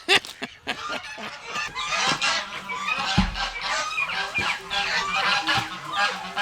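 Indian runner ducks kept indoors on a farm, a busy chorus of honking and quacking calls overlapping continuously, loud and close.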